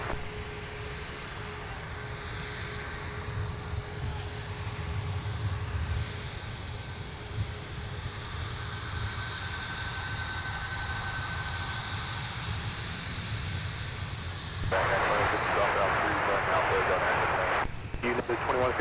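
An Icelandair Boeing 737 jet roars in the distance as it takes off, a broad, sustained rumble that swells louder toward the end, while a voice talks over it.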